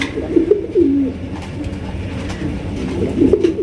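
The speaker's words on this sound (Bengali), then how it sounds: "চমৎকার বোম্বাই কবুতর দেখতে পাচ্ছেন স্ক্রিনে আপনারা" A Bombay pigeon coos nearby in a breeding loft, soft throaty rolling calls in short phrases near the start and again near the end, over a steady background hum.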